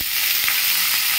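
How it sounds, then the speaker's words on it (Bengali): Pumpkin fries in hot oil seasoned with dry chili, bay leaf and cumin, giving a loud, dense, continuous close sizzle with no talk. "এই কুমড়োটা এর মধ্যে দিয়ে দেব।"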